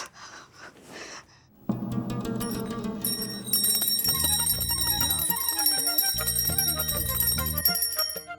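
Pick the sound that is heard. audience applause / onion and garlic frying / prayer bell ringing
prayer bell ringing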